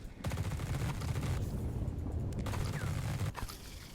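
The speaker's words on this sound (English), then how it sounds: "we're just kind of shooting and running" Rapid automatic gunfire from The Red Solstice, a sci-fi squad tactics game, sounding as dense continuous bursts with a brief gap, loud and close.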